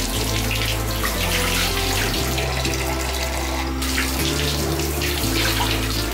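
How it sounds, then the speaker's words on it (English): Tap water runs steadily and loudly into a toy doll bathtub as it is rinsed, a continuous close gush that fills the whole stretch without pause. "I always just rinse out the tub just to make sure it's all clean for them"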